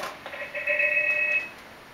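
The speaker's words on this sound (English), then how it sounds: "the ringer sound, you've been hearing that" Linksys SPA941 IP desk phone sounding its intercom ringer: a single short electronic trill tone lasting about a second, clear and moderately loud in a quiet room.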